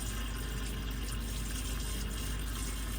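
Water rushes steadily into an RV toilet and gray tank through a hose, a constant dense hiss and gush with no breaks, close and unchanging for the full few seconds.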